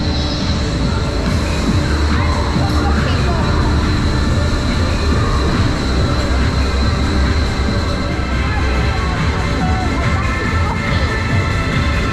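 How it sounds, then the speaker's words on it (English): A Euro-Mir roller coaster train climbs a spiral lift hill at Europa-Park with a loud, continuous rumbling clatter of wheels and chain, while tonal sounds run faintly in the background. "we're going up a spiral lift hill with a load of other trains"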